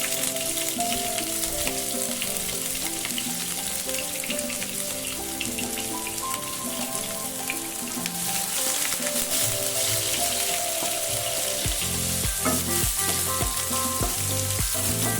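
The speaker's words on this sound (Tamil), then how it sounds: "எண்ணெய் சூடாகிடுச்சு. இப்போ பூண்டு போட்டுக்கலாம். வெட்டி வச்சு வெங்காயத்தை போட்டுக்கலாம்." Garlic and chopped onion sizzling in hot oil in a pan for egg fried rice, a dense continuous crackle and hiss, close and steady, with occasional stirring scrapes toward the end.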